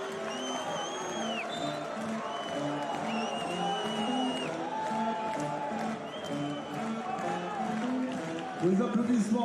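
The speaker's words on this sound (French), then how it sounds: "Les applaudissements pour Tobin Carberry." Applause from a basketball arena crowd in a Blois vs Paris French league game rises under steady commentary, with clapping and cheering swelling near the end.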